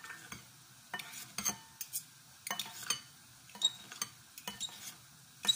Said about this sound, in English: I'm going to chop the egg. That way I can do it in the bowl.